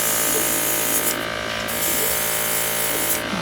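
Spray paint hissing steadily onto 3D printed parts, with a loud, continuous, close-up spray that continues without a break for a few seconds.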